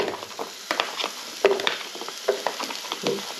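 Onion fries gently in a little oil in a pan, giving a soft crackle broken by intermittent scraping and stirring clicks, fairly close and quiet, with no voices.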